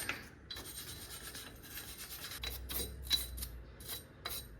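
A wire brush scrubs carbon off brake parts for a Focus XR5 slotted rotor job, giving close, quiet rasping strokes in short bursts with a few sharper scrapes, no talking.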